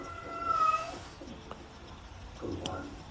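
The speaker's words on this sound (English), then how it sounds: "I got the cats in the back meowing too." A cat meows loudly once, then a few quieter meows follow in the background amid faint room noise.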